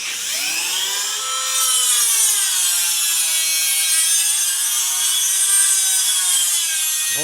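A Dremel cut-off disc slices through a TC Bros rear fender for a Honda Rebel 250 motorcycle, giving a loud, steady high-pitched grinding whine that rises and wavers slightly for several seconds with no voices.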